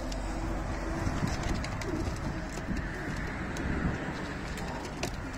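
A pigeon coos repeatedly close by, soft throaty calls over a steady outdoor background hum, no talking.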